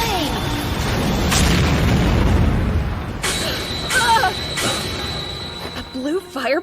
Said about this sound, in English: A blue fireball? How's it so strong?